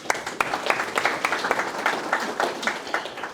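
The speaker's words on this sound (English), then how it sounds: "Let's give him a round of applause." Audience applause for a guest speaker, a lively stretch of many hands clapping at close range with sharp individual claps standing out.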